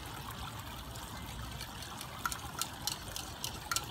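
Creamy sauce poured from above into a Dutch oven for shepherd's pie makes a soft, faint trickling and dribbling with a few small splats, quiet and close, with no voices.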